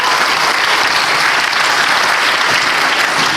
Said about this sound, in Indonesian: Kita berikan aplaus untuk Pak Lo.